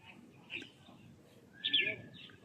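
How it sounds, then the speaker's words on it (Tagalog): Birds give a few short chirps and calls at a spot associated with Feng Shui beliefs, faint and sparse, with one brighter call standing out over a quiet background as a person speaks nearby. "may mga ibon."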